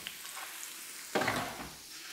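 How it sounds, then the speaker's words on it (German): Shallots hit hot oil in a frying pan and burst into a sudden loud sizzle over a faint, steady background crackle. The sizzle then settles into a softer fry, with no talking. "Nehmen unsere Schalotten, kommen in die Pfanne, lassen die schön mit brutzeln"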